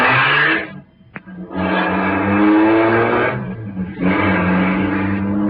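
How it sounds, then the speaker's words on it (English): A big car's engine roars away down a driveway in an old-time radio drama sound effect, a loud sustained rumbling growl that dips briefly, then surges again and holds steady to the end. "At the moment that she's sending the big car roaring down the driveway"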